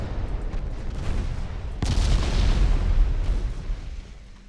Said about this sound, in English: Orion is taking hit after hit.